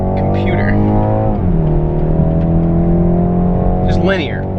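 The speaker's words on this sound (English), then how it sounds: "Alright, that's a red line downshift." A BMW 430i Gran Coupe engine drops through a downshift from redline, its loud droning note sliding lower then holding steady, heard from inside the car with someone talking over it and a brief whine near the end.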